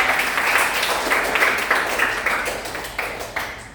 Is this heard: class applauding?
yes